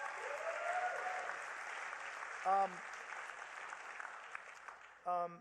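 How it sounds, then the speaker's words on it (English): A gathering at the Hult Prize 2019 event applauds three people, producing a faint, steady patter of clapping in the background, broken twice by short tonal electronic blips. "let's give those 3 a round of applause"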